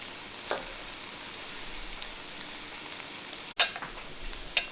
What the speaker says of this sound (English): Once those onions are cooked up really good.